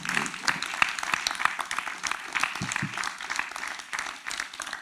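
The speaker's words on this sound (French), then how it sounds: "un immense applaudissement pour Caroline Séguier" A crowd at a public arts and sciences gathering applauds Caroline Séguier, a fairly soft but continuous spread of many hands clapping, with a few sharper claps standing out.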